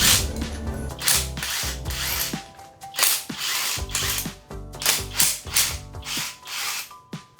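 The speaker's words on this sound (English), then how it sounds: "you can grab an impact wrench and remove all the mounting bolts" An impact wrench removes the AC compressor mounting bolts on a Honda Civic Type R, firing in several close, loud, hammering bursts with whining tones, separated by short pauses.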